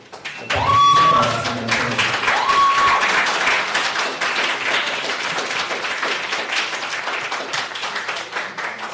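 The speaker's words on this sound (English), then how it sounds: "a round of applause for our first presenter" Applause from an audience at an inter-schools debate during water week, starting abruptly with a thump and then continuing as steady, dense clapping that eases slightly toward the end.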